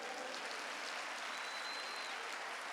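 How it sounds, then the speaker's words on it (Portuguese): Church congregation applauding during a Sunday service, a dense, steady wash of clapping heard from within the room at moderate level, with no talk over it. "Quem recebe, dá um aplauso ao Senhor."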